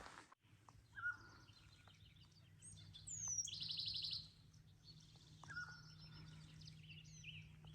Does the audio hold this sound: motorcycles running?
no